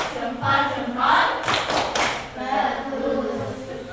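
Indonesian classroom children chant together while clapping their thumbs, a loud rhythmic group voice with soft taps and thuds of hands mixed in.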